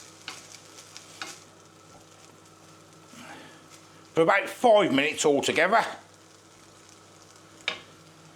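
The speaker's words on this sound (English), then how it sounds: "get our sweet corn in. And we're just going to fry that up" Sweet corn sizzling and being stirred in a pan on low heat, a short burst of loud crackling scraping amid quieter frying, with a person talking.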